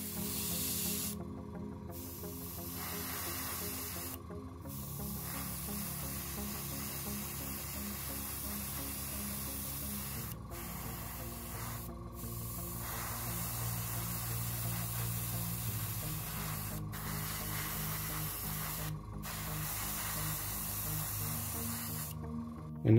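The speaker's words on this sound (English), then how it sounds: "I'm just going to start by priming these up with a bit of Tamiya surface primer." Aerosol can of Tamiya surface primer hissing in repeated bursts onto Death Star II model parts, close and steady, with brief pauses between sprays over a low background hum.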